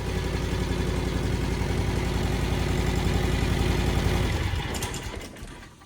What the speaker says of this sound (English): we'll go ahead and idle that down and shut her off.